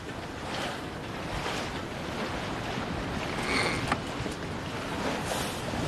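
Ocean waves roll and break under gusting wind, a broad, loud wash of surf that swells and recedes continuously, with wind buffeting through it and no talk.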